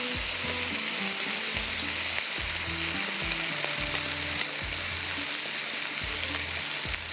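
Boiled rice fries in butter in a pan, giving a steady close sizzle with intermittent scraping and stirring knocks throughout, and no voices.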